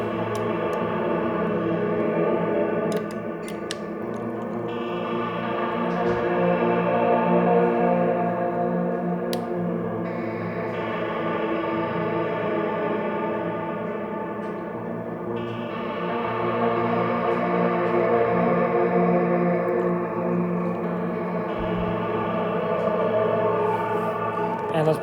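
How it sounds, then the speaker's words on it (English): An instrument's sustained, layered tones run through an echo effect during a live performance, the repeats smearing into a continuous wash with gentle swells and a few faint ticks throughout. "Let's do a little echo again."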